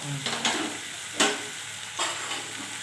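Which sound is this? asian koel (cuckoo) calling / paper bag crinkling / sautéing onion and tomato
sautéing onion and tomato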